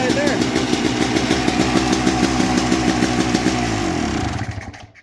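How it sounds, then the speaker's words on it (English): A motor runs loudly and close up with a rapid, rhythmic chugging and clatter, holding steady for several seconds before winding down and cutting out at the end. "I got good proof of concept that the motor still does run"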